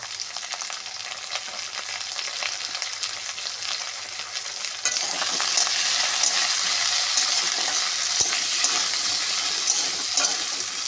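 Potatoes fry in a little oil with turmeric and black cumin in a pan, making a steady close sizzle that grows louder partway through.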